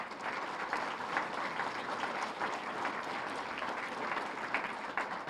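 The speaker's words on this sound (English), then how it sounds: "please give her a round of applause" A luncheon crowd at a chamber of commerce annual event claps steadily for a staff member, a dense, continuous round of applause held at even loudness for several seconds with no voices over it.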